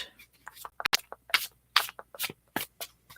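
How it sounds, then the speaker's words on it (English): Playing cards are shuffled by hand close up in a quiet ASMR setting, a run of sharp crisp riffles and snaps with short pauses between bursts. "Let me make sure these cards are shuffled very well."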